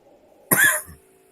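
A single close, harsh cough from one person bursts out sharply and fades within about half a second over a quiet background.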